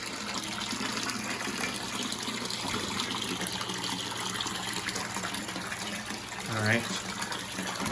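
Water gushes steadily through the overflow of a DIY bucket filter for a turtle tank, a constant close rushing wash with someone speaking briefly over it.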